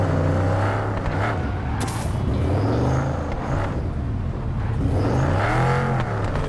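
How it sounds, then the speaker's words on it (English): Muscle car engine in Cyberpunk 2077 revving and roaring continuously, loud and close, with rising and falling pitch as it accelerates through gears. "I love the way muscle cars sound."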